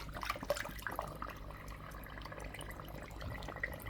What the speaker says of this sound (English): that's when it starts gurgling